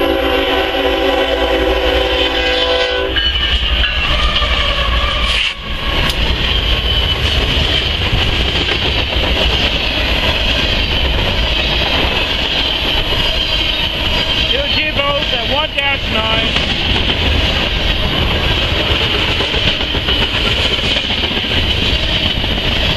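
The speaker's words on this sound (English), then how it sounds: "It's a mixed freight. BNSF mixed freight, eastbound." A BNSF mixed freight train passes eastbound on the Yakima sub, a loud, continuous rumble and roar of wagons close by for over twenty seconds, with a horn-like tone at the start and wheel screeches midway.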